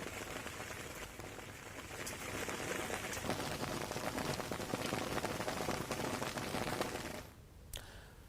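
Heavy monsoon rain pours down steadily in Bihar, India, a dense, loud hiss of drops on surfaces that swells in the middle, then cuts off abruptly near the end with a brief patter after.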